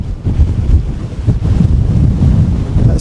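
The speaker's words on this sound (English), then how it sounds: "It's so windy up here." Strong gusty wind buffeting the microphone with deep rumbling bursts, loud and close, no voices.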